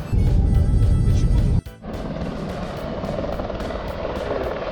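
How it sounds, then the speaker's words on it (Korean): A tour helicopter at the Grand Canyon gives off a steady, loud low rumble that drops abruptly and continues as a quieter, even drone. "저는 지금 그랜드 캐년 헬기 투어를 하러 왔어요"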